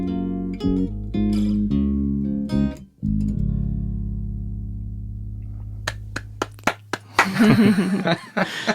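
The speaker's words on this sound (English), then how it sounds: "Someone had to clap." Sung music plays first, then a small indie-music audience responds as the song ends: a few isolated claps followed by a short, loud burst of clapping.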